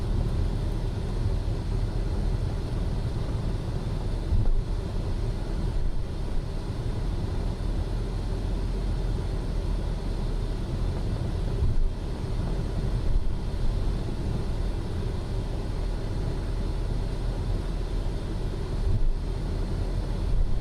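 Steady auxiliary power unit hum of a Falcon business jet in Microsoft Flight Simulator, a continuous low rumbling drone with a faint whine that holds level throughout, with no talk.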